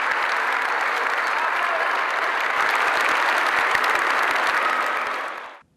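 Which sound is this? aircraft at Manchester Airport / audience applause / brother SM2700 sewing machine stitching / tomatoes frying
audience applause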